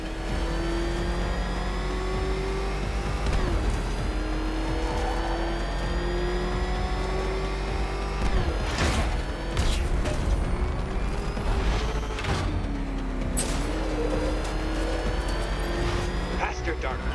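The Batmobile's engine in Batman: Arkham Knight roars steadily and close throughout, with shifting revs and whooshing bursts as it races, while a voice talks over it.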